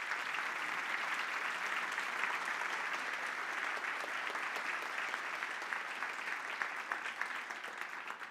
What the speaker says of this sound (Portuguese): uma salva de palmas para a Vocação